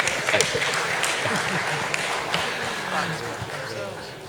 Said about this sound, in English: I think from the applause, the audience know what to do.